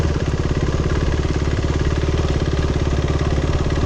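A Tamil Nadu–registered motorcycle idling nearby in Chandigarh, a loud, steady rapid engine thump throughout.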